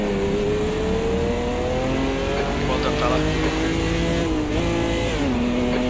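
Race car engines in the sim racing game Automobilista 2 drone loudly and continuously, pitch shifting with gear changes and throttle, while someone talks briefly over the top.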